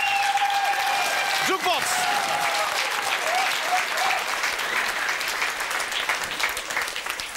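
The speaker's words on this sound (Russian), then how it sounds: "Подошли аплодисменты." An audience at a benefit concert applauds throughout, with dense, sustained clapping and a brief voice from the stage at the very beginning.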